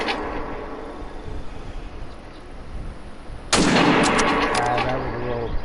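A single loud rifle shot in theHunter: Call of the Wild, cracking abruptly after a few seconds of quiet outdoor ambience and then echoing away across the mountains.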